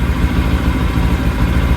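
A QJMOTOR SRT700X motorcycle engine idles steadily and close by, a continuous low rumble with no cutoff.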